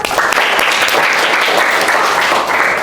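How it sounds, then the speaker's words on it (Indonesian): Steady, loud applause from a classroom of students fills the room for a few seconds without pause. "Kasih aplaus."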